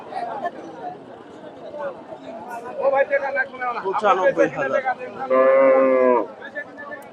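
Cattle at a busy rural cow market in Bogura, with several loud, drawn-out moos close by over a constant murmur of crowd chatter and voices.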